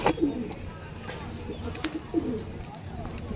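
Desi pigeons cooing in short low bursts at a loft, a few soft coos repeating across the moment, with a voice talking over them.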